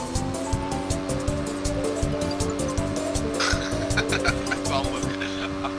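A motorbike revs and accelerates in the battle royale game PUBG. A steady, droning engine tone holds throughout with rising harmonics and tire-like squeals, and players chat over it.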